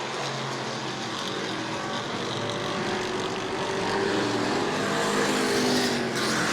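Super stock race cars roar down the back straightaway at New Smyrna, a continuous loud, dense engine drone that swells slightly as the field presses on.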